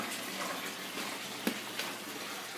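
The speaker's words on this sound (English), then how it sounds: "Comes down here, and then the water is filling these beds." Water flows by gravity from a pipe into basement aquaponics grow beds filled with expanded clay and volcanic rock, a steady splashing gush with a couple of brief louder splashes.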